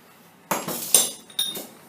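A metal chuck key drops onto a lathe bed, giving a sharp clink, a bright rattling bounce and another clatter a moment later, close and brief in a quiet shop.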